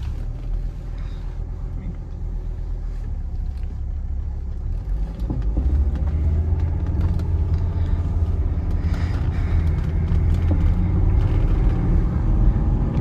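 A 1985 Mercedes 300TD diesel wagon rumbles steadily from inside the cabin, the low engine drone building as it pulls away and accelerates, a continuous road-vehicle hum with a voice speaking over it.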